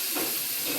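Cut cauliflower hits hot oil in a pan, giving a brief, steady, close sizzle and hiss that lasts under a second.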